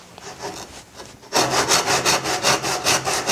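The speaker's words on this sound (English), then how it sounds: "take this little saw" A small backsaw cuts through wood. A few soft strokes are followed by a run of loud, rhythmic rasping strokes up close, with no voices.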